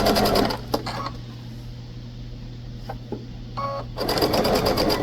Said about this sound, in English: So we're just going to sew our bias all the way around our bag with a small seam allowance.